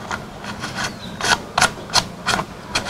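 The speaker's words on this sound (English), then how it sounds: "Now, I put this handle on here." Handle being fitted onto a Tacklife variable-speed rotary tool: a run of rubbing, scraping plastic clicks and knocks, about six sharper taps spaced roughly a third of a second apart, close and fairly loud, with no talking.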